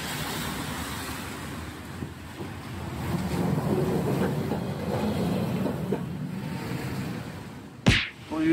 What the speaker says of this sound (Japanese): 電車は市民病院前を出ました。